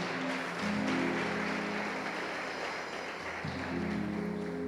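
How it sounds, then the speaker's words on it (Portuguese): A church congregation claps for Jesus at the end of a sermon, a steady wash of applause at moderate level over sustained low keyboard tones. "E vamos aplaudir o Senhor Jesus bem forte."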